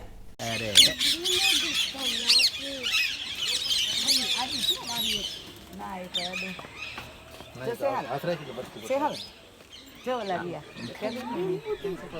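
Birds in a large zoo aviary at a jungle safari park in Kevadia, Gujarat, squawk repeatedly and loudly, mixed with people talking nearby.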